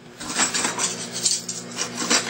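Spoons and cutlery clatter and clink repeatedly in an irregular burst of close metallic rattles, with no talking over them.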